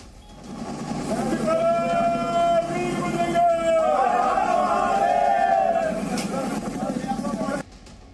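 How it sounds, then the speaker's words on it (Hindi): A crowd of supporters chants Har Har Mahadev outside a hospital, with rhythmic, sustained group voices rising over murmuring chatter before cutting off abruptly near the end. "सुधीर के पोस्टमार्टम के वक्त अस्पताल के बाहर उनके परिवार के साथ साथ समर्थकों की भीड़ भी थी, जिन्होंने हर हर महादेव के नारे लगाए।"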